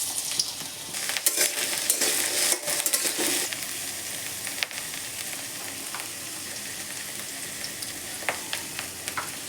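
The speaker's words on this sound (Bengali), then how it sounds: "তো এখন আমি আলুটাকে আগে বসিয়ে ভেজে নেব" Potatoes frying in oil in a pan, a soft, steady sizzle with occasional scrapes and light clinks of utensils, fairly quiet and with no talking.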